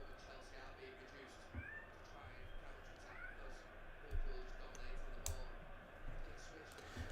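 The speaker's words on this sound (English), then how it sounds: "Don't know what he's meowing for." A pet cat meows a couple of brief times, faint and mid-distance, under a steady background of televised football match commentary and crowd noise, with occasional clicks and a person talking nearby.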